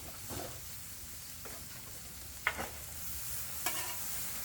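Garlic and sausage frying on a Blackstone griddle, a faint steady sizzle with a few scraping spatula strokes and small clicks, low in level and without talk.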